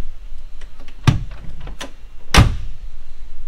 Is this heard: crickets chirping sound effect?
no